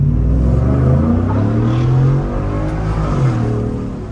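A Ford F-150 with a 5.0 V8 revving hard in heavy traffic, a loud, close, deep engine roar that climbs and falls in pitch, then holds a throaty drone.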